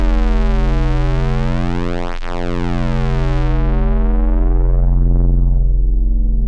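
A fat square-wave bass synth patched in VCV Rack holds a single loud, buzzy sustained note, its harmonics sweeping through a filter and rippling, then the brightness closes down toward a darker, rounder tone.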